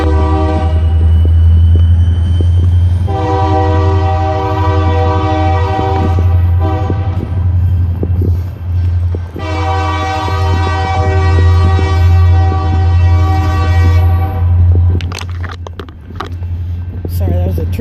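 A train rumbles past up close with a deep, continuous roar while its horn blasts loudly in two long sustained chords.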